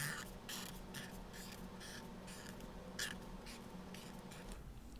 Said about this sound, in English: I'm going to take this pen and just in the middle of the page write why